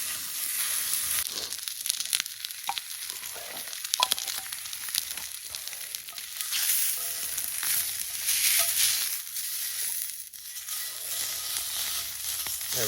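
Steak sizzles in a pan at a campsite cookout, a loud, continuous close-up frying hiss with scattered crackles and pops that runs the whole time without speech.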